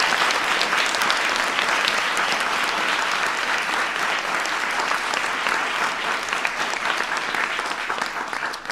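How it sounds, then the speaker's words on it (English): Sustained applause from an audience at a science fair event, honoring a young presenter, dense and steady from start to finish with no one speaking. "So give Maya a big round of applause."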